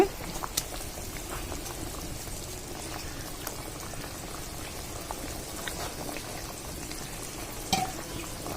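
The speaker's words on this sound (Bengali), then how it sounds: "আর আমাদের তরকারিটা দেখুন একদম বলক পাড়তেছে" Curry boils vigorously in a pot, a dense, close bubbling and popping that continues steadily throughout with a few sharper pops.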